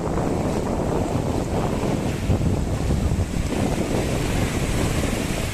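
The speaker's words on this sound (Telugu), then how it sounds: "ఇది బీచ్." Ocean surf rolls onto a beach in Goa as a continuous, fairly loud wash mixed with wind rumble, with no talking.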